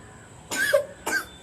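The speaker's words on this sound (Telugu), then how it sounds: "దగ్గుతున్నావు" A young child coughs twice in quick succession, two short, close, breathy bursts over a quiet room.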